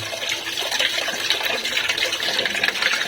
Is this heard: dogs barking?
no